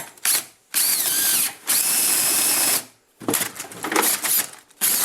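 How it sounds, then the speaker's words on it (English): Power drill boring a hole with a paddle bit, loud whining bursts of spinning that stop and restart several times, with brief pauses between. "that's what happens when you forget to drill it ahead of time"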